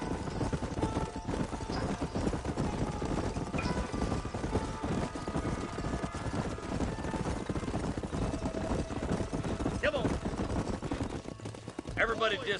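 Horses gallop in Red Dead Redemption, a steady rapid clip-clop of hooves running throughout with an occasional whinny, all under game dialogue and a busy background mix.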